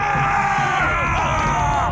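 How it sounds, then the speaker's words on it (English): Vikings running around and shouting: a dense, steady din of yelling and whooping voices over a constant rumbling background, loud and continuous throughout. "Vikings! Running around and shouting."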